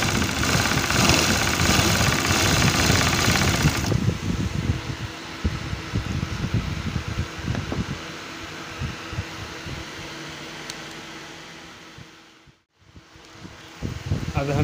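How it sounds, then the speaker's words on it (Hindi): A large sewing machine stitches with a loud, dense mechanical rattle from its motor, then settles into a lighter knocking hum that fades almost to silence before starting up again. "फिर से एक बार सिलाई मार दिया।"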